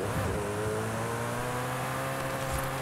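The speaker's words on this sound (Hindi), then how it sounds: "लेट्स सी हमारी कॉनिक्सेग जेस्को क्या कर सकती है पूरी मॉडिफाई होके" A fully modified Koenigsegg Jesko in a driving game roars steadily under hard acceleration, its engine drone loud and near with layered harmonics and no talking.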